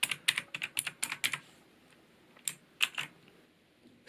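Rapid clacky keystrokes on a mechanical keyboard with Outemu blue switches (Skydigital NKEY-K2), a quick burst of typing followed by a pause and a few more scattered clicks, close up.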